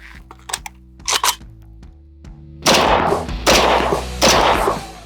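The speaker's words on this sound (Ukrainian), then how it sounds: "Далі 762 на 39. Три постріли." Three loud 7.62x39 rifle shots about a second apart at armor plates, preceded by a few faint clicks, over a low constant hum.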